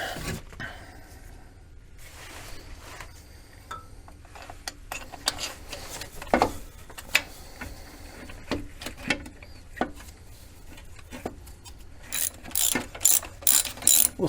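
A hand ratchet tightening the bolts of a starter on a C3 Corvette, in bursts of rapid clicking with pauses between strokes that grow louder and quicker toward the end.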